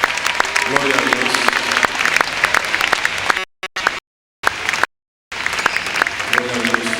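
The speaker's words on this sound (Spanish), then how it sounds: "Vamos a dar un aplauso al Señor" Loud, dense applause from a church congregation during a Spanish-language worship service, broken by a couple of sudden gaps of silence before the clapping resumes.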